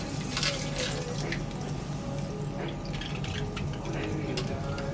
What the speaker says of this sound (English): at this point, I'm going to wet the hair